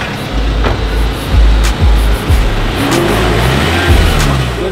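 A new car's engine fires up and revs hard, several loud bursts of acceleration rising and falling over a low idle, close by, with no one speaking.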